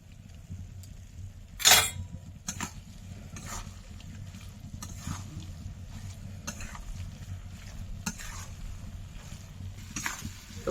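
Fresh pond snails being stir-fried dry in a pan with green chillies, a low continuous sizzle broken by sharp clinks and scraping stirs of the shells and spatula, one loud clatter early on, no voices.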